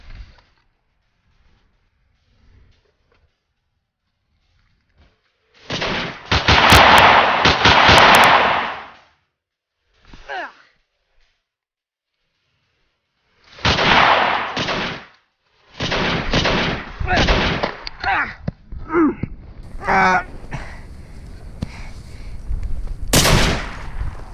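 Bursts of video game gunfire, several sustained automatic volleys and shorter shots separated by silences, loud and close, without talk over them.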